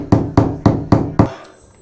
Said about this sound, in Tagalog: Tapos pokpok na martilyo.